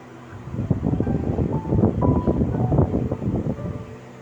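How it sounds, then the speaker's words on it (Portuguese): Wind gusts buffet a microphone at an outdoor sermon, producing a steady, close, low rumbling roar with uneven swells that lasts throughout. "Você está sentindo aqui esse vento?"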